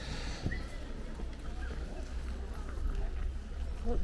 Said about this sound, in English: they are literally warming up the horses